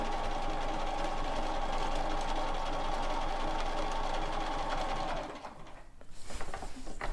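A home sewing machine stitches a quilt-as-you-go block, running in a steady, fast mechanical hum for several seconds before stopping, followed by faint handling clatter of fabric and machine.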